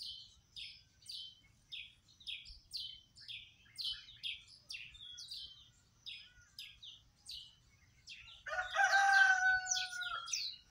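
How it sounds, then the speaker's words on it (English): Backyard birds chirping in quick, bright repeated calls, then a rooster crows loudly near the end over the continuing chirps, in a quiet outdoor setting. "The chicken crowing and the beautiful bird sound chirping away."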